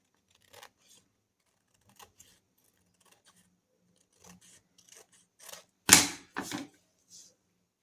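Scissors cutting a brown paper bag: scattered quiet snips build to a few louder, crisp cuts near the end, close up and without talk.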